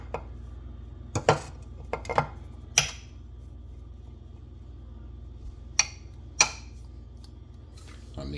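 An electric mixer runs in first gear, blending flour into lemon crunch pound cake batter, a steady low motor hum broken by several sharp, close clanks against the bowl.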